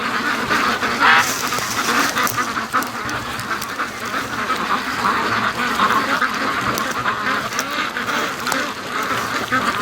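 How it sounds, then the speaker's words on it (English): A flock of free-range ducks quacks continuously and busily while heading toward a lake, many overlapping calls close by, with rustling movement and outdoor ambience throughout. "I really want to get a shot of all the ducks going up the creek"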